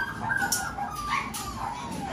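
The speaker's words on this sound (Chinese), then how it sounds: "走吧，咱们来看一看咱们的金毛" Golden retriever puppies of a sandy-gold litter at a dog kennel, giving high, thin whimpers and short yips in a scattered series over a soft background.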